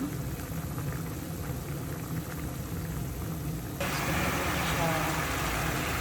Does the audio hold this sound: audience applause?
no